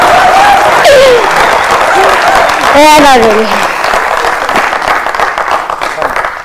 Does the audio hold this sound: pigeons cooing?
no